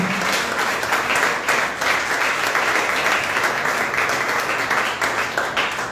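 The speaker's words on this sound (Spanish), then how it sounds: "Denle un fuerte aplauso al Señor." A church congregation applauds loudly and steadily for about six seconds, a dense wash of many hands clapping with faint voices mixed in.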